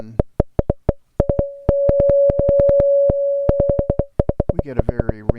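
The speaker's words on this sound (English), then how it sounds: "we start to get some self-oscillation out of the state variable filter" A state variable filter patch in Max/MSP driven by click pulses rings into a sustained self-oscillating tone, the steady pitch holding under a train of sharp clicks before breaking into a denser, warbling resonance.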